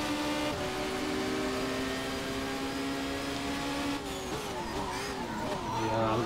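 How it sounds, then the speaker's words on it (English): A Seat race car in Race 07 locks its brakes, engine tone holding steady then wavering and dropping as the tyres scrub, with a low rumble underneath and faint engine noise from nearby cars. "brakes lock up"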